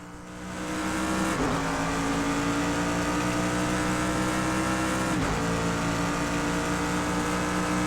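Race cars in Project CARS 2 at Fuji, a loud, sustained engine roar that swells in over the first second and holds steady, with brief passing sweeps, no voices.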